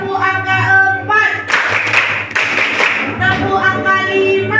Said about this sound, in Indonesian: Tepuk angka 1, tepuk angka 2, tepuk angka 3, tepuk angka 4